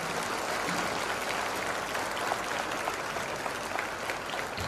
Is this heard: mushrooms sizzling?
no